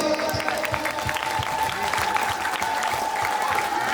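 Loud, sustained crowd applause from a large gathering at a Rath Yatra festival for Lord Jagannath in Mirzapur, steady dense clapping running throughout with a faint tonal hum beneath.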